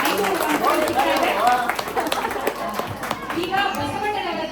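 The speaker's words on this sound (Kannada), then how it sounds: "ಚಪ್ಪಾಳೆ ತಟ್ಟಿ" An audience claps at a Kannada quiz on vachana poetry, a steady patter of applause mixed with voices talking over it.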